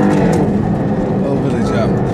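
A fast car accelerates hard around a race track's first corner, its engine roaring loudly and steadily throughout while someone talks over it.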